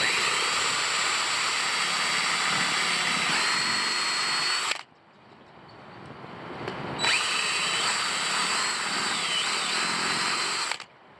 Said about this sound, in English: I'm gonna use a step drill bit to achieve that.